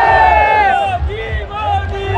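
Large crowd at a Modi election rally in Varanasi, Uttar Pradesh, a dense continuous hubbub of many voices with shouts and cheers rising and falling, loud and close throughout.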